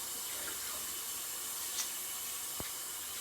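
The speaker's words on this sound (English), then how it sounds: "One awesome trick for cutting onions is to cut them under running water." Kitchen tap water runs in a steady, even hiss at sink level while onions are cut under the flow, with one faint knock partway through.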